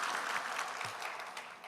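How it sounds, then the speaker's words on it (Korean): A church congregation applauds together in worship, a dense, steady wash of many hands clapping that fills the space evenly and tapers slightly toward the end. "먼저 하나님께 우리 영광의 박수 올려드리겠습니다."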